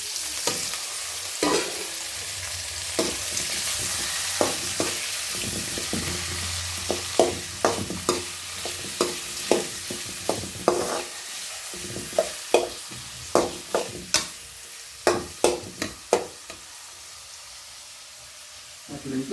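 Tomato, ginger, green chilli and onion fry for upma, a low sizzle under a long run of sharp, rhythmic spatula scrapes and knocks against the pan, close and fairly loud, with some quiet talk at times.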